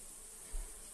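Buzzing of many flies, a steady insect drone with no talk, briefly swelling near the middle of a short second.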